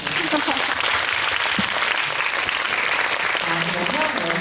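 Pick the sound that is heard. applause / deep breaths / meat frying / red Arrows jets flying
applause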